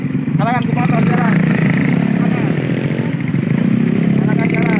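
A motorcycle engine runs on a road at a town square, a loud continuous rumble with a brief rising rev, while people talk over it.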